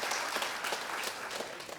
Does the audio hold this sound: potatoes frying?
no